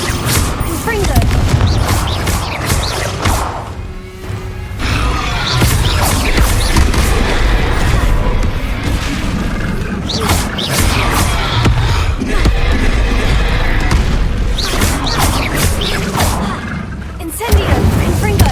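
Repeated Confringo blasting spells in Hogwarts Legacy detonate as loud booming explosions and crashes, several heavy bursts with brief quiet gaps across the stretch, mixed with battle noise and a speaking voice.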